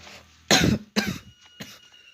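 A person coughs sharply twice in quick succession, close and loud, followed by a softer third cough after a brief pause.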